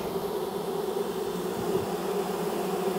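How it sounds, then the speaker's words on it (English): Honey bees in a hive inside a condemned building give off a steady, dense buzzing drone, close and continuous, with no talk over it. "that's thrumming with bees"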